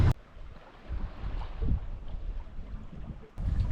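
A swing-keel sailboat moves along in light wind, with a soft steady wash of water and gusty wind rumbling on the microphone, fairly quiet and with no talking.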